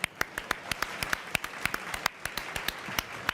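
A small round of applause during a live football-match broadcast, a few people clapping with sharp, separate hand claps in an uneven rhythm, fairly quiet and without voices.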